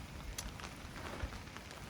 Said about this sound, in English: Rainy night, up in the mountains